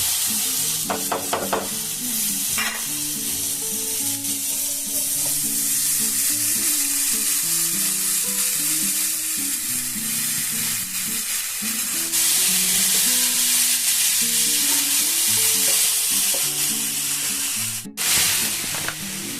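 Drained chow mein noodles sizzle and hiss loudly in a hot pan as they are stir-fried, a continuous bright frying roar with occasional scraping clatter and a tonal melody running quietly underneath.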